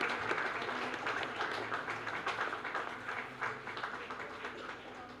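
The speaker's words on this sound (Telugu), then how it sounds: "గట్టిగా ఒకసారి చప్పట్లతో" An audience at a Brahmin welfare forum gathering claps together in sustained, fairly quiet applause, a dense patter of many hands lasting several seconds.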